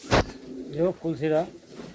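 Andhra pigeons coo in a few rising, throaty bursts at close range, after a sharp short noise at the start.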